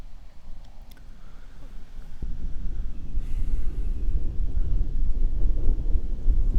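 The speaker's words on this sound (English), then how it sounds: "It's kind of windy this day." Wind buffets the microphone on a golf course in low, rumbling gusts that build after a quieter start and keep roaring unevenly to the end.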